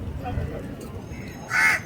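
A crow caws once near the end at Gandhi beach in Pondicherry, a single loud harsh call standing out over steady seaside background noise.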